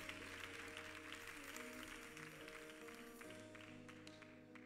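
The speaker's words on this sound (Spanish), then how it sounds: "Fuerte el aplauso a Laura Gallego" Studio audience applause for Laura Gallego on a television comedy show: a steady, dense wash of clapping lasting the whole stretch, fairly faint, with sustained musical tones running underneath.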